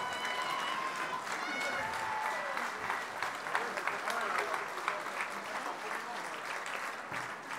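A crowd at an opening ceremony applauds the Monaco team, dense sustained clapping that fills the space, with cheering voices mixed in.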